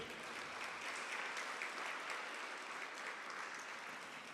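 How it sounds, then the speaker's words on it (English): An audience at a Peabody candidates forum applauds the candidates, a soft, even patter of many hands clapping at moderate distance, steady throughout. "let's just give another round of applause to all the candidates that were here tonight"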